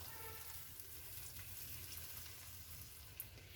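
Two eggs poured into a hot pan with tomatoes, a soft steady sizzle and faint frying crackle throughout, with a small pop near the end.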